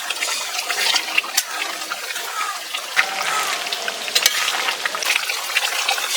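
Chicken dum biryani spice paste, freshly ground, hits a hot pot and sizzles loudly and steadily, with wet crackling and splashy stirring bursts throughout, close up and without talk.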